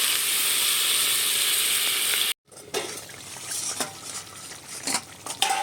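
Water poured into a pan sizzles loudly for a couple of seconds, followed by close scraping and stirring of fish curry with brinjal, the utensil clinking against the pan in irregular strokes.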